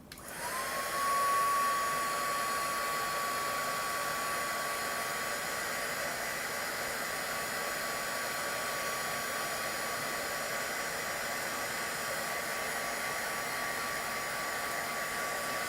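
A hair dryer blows steadily to dry patina on handmade wire jewelry, a continuous close whooshing hum with a thin whine that starts abruptly and holds level throughout, with no talking.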